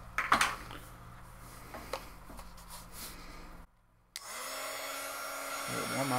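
Small craft heat gun switching on to melt embossing powder, preceded by quiet handling clicks and a brief silence, then a steady close whooshing blower hum that runs to the end.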